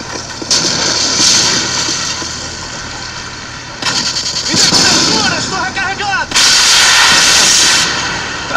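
Javelin missile launcher blasts in a Call of Duty match boom in three heavy, long roaring bursts with rumbling tails; a voice talks in between the explosions.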